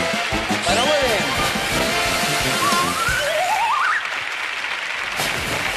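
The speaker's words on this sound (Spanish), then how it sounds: "la ovación de su pueblo, Tarazona" A crowd roars in a loud, continuous ovation of applause and cheering for the Tarazona team at a 1996 summer Grand Prix television game show, with whistle-like cries rising through the steady wash of noise.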